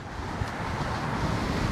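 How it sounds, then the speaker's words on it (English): Strong headwind roars against the microphone while riding a KingSong 18XL electric unicycle outdoors, a loud, steady rushing buffet that lasts the whole moment. "If I had this wind behind me, I could probably go 15 miles."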